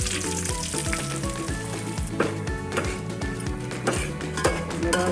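Semolina (rava) roasting in homemade ghee in a pan, a steady dense sizzle and crackle with a few soft clinks as it is stirred, close and continuous.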